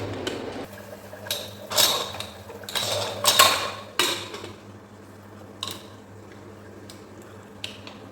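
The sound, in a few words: pressure cooker lid being closed and locked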